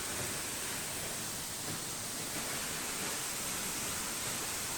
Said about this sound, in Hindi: और हम आ चुके हैं इस वाटरफॉल के एकदम पीछे। ये साइडों में एक ग्रीनरी, और नीचे रिम झिम बरसता झरना।